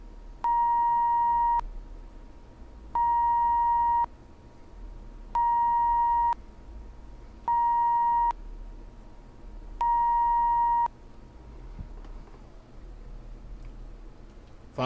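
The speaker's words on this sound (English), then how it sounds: "1 kilohertz" Steady 1 kHz test tones from an audio generator, sounding in five loud, even bursts of roughly one to one and a half seconds each, separated by short gaps over a faint background hiss.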